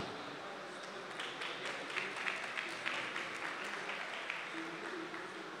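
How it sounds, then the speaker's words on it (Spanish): An audience at a business pitch marathon gives a soft, steady round of applause, its claps blurring into a continuous hiss that swells slightly in the middle and holds through to the end. "Y vamos a Ernesto Rincón con un fuerte aplauso"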